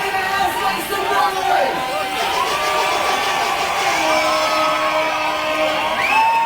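Live crowd cheering and whooping for a performer on stage, a dense continuous roar of voices with scattered shouts and whistles throughout.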